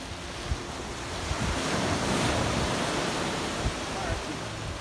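Surf washes steadily onto a beach in a continuous, loud roar, with wind buffeting the microphone throughout.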